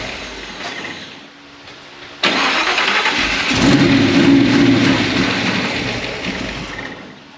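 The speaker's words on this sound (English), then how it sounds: "Give it a start." A car engine, freshly fitted with a distributor and set timing and primed with a little flammable fluid, cranks briefly and then fires into a loud, close roar that settles toward an idle.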